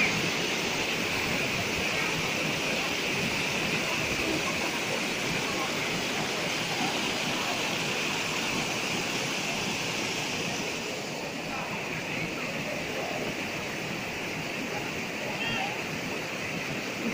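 Steady rushing water of a turquoise river flows continuously, a broad even wash of noise with no pauses, close and fairly loud throughout.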